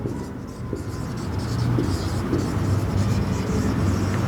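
Writing on a board during a time, speed and distance math lesson, heard as continuous scratchy strokes over a noisy room background that grows slightly louder partway through.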